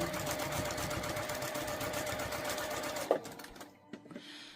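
A sewing machine straight-stitching a scrappy quilted pot holder runs in a dense, steady whir close up, then stops abruptly with a clunk and a few soft handling noises.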